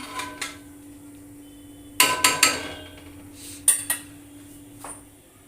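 A metal lid clanks onto a pot of cooking chicken pulao, several sharp close clinks and rattles coming in short clusters with quiet gaps between.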